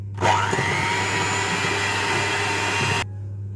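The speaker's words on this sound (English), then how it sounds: "I'm going to whisk this together." Electric hand mixer whisking 200 grams of butter with 200 grams of demerara sugar for a lemon drizzle loaf cake, a steady loud motor whir running for about three seconds before stopping abruptly, with no talking.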